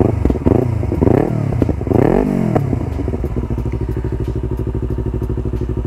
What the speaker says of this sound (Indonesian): untuk suara knalpotnya seperti ini ya, Akrapovic Slovenia Carbon.